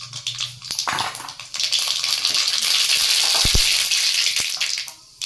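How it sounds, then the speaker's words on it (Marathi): Mustard seeds crackle and sizzle in hot oil in a kadai, a continuous bright fizz with scattered sharp pops and a brief thud midway, close and fairly loud with no talk. "मोहरी छान तडतडू द्यायची"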